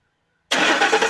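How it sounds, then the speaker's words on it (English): A 2007 Ford F-150 4WD pickup engine cranks and catches after a half-second of silence, bursting loudly into a rough, close running roar. "go ahead and start the truck up"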